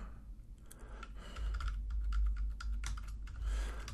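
Code typed on a computer keyboard, steady rapid key clicks running through the whole stretch, close and clear with a low hum beneath.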